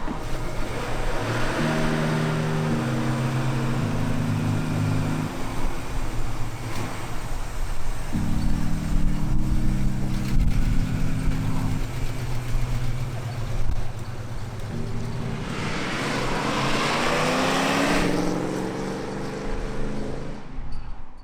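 A 42-year-old Toyota FJ45 LandCruiser on a drive: a steady, loud engine drone with a rumbling low hum that rises and falls through gear changes, with wind rush throughout.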